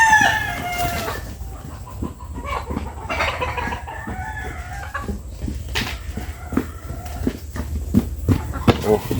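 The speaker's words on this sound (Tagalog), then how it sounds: "ato nang pakanon ni atong mga manok" Backyard chickens cluck and squawk at feeding time, with a rooster crowing near the start and busy pecking and fluttering noises; voices are faintly heard in the background.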